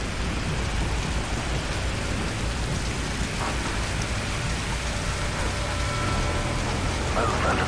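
Rainstorm in the Call of Duty: Modern Warfare 3 campaign, a steady dense hiss of heavy rain with low thunder rumbling underneath, continuous and enveloping.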